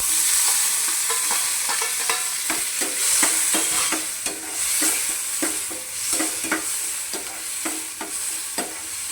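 Tomatoes with a pinch of asafoetida and turmeric sautéing in a pan, a steady loud sizzle broken by repeated sharp scraping strokes of a spoon stirring throughout, no voices.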